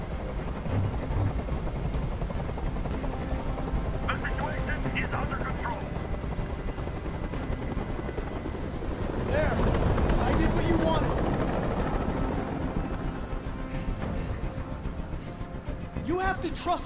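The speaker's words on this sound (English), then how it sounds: "Tell that helicopter to get out of here." Helicopter in the game Detroit: Become Human, hovering near with a steady loud rotor thrum throughout, while voices speak over it.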